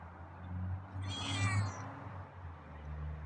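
A feral cat meows a few times close by, a short cluster of plaintive calls in a quiet outdoor spot with a low background hum.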